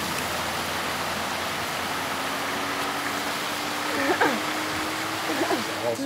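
Small six-inch creek flowing beside a gorge trail in North Carolina, a steady close rushing and splashing of shallow water, with brief voices and a faint hum rising near the end.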